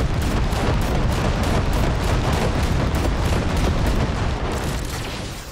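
Dense, loud gunfire in the futuristic shooter Cyberpunk 2077, a continuous barrage of overlapping shots and booms that tapers off at the end, with a brief spoken word.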